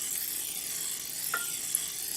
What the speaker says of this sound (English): you pump it till it meets resistance, and then you can spray it in your pan